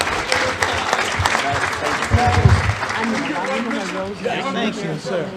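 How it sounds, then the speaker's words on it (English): An audience at a Baptist fellowship Black History evening gives a panel a round of applause, dense clapping that carries throughout while someone speaks over it into a microphone. "Let's give this panel one more round of applause."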